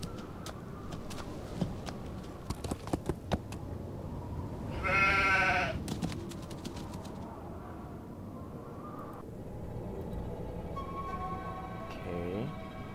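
A single short sheep bleat from the Nancy Drew video game rises over a quiet game soundscape with scattered clicks, while a person talks over the game audio.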